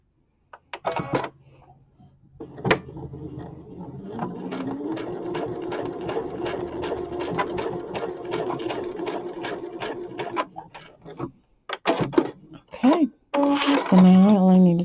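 A sewing machine stitches fabric in one steady, moderately loud run of rapid mechanical clatter lasting several seconds. Brief knocks come before it, and a person talks afterward.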